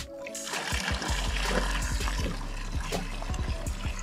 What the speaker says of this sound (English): now we add the remaining water.